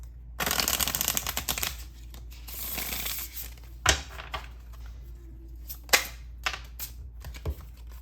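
Oracle cards are shuffled close by in quick riffling bursts, a dense papery flutter at first, then scattered softer slides and a few sharp taps of the deck, with no talking.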